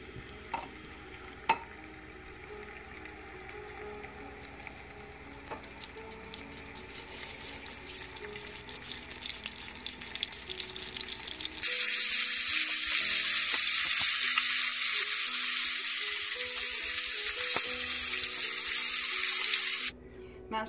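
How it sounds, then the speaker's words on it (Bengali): After quiet kitchen clatter, marinated pompano fish hits hot mustard oil in a pan, starting a sudden loud, hissing sizzle that holds steady for several seconds before cutting off. "আমি এখন মাছ ভাজবো, তা এখন প্যানে আমি সর্ষে তেল দিয়ে দিচ্ছি"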